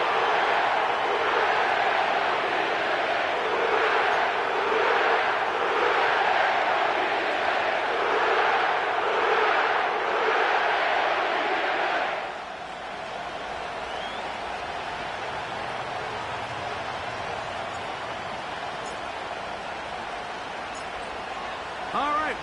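Stadium crowd roaring in an EA Sports NFL video game at New Orleans' Caesars Superdome, a loud, steady wall of cheering with rhythmic surges that drops to a quieter murmur partway through.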